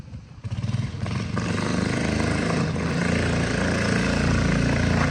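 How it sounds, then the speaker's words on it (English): Big block Baja Warrior mini bike engine revving hard with a slipping clutch, a loud close rough roar that pulses briefly at first and then holds a steady high drone, no talking. "The clutch is spinning so bad."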